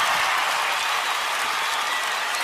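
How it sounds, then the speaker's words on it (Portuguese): An audience at a sertanejo music show in São Paulo applauds loudly, a dense, steady wash of clapping from a large crowd with no pause. "Eu queria o carinho e os aplausos de vocês para os meus amigos"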